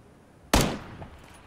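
A single sharp, close gunshot fired from a sniping position in a video game. The crack rings out briefly and fades into a short echo, with quiet surroundings before and after.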